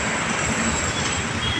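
A Hyderabad metro train at Jubilee Check Post station rumbles past loudly and continuously, with a thin wheel squeal over the steady rolling noise.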